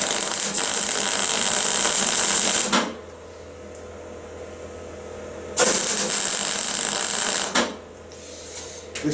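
Metal being tack welded, two loud buzzing bursts of a few seconds each separated by a quiet hum, heard close up.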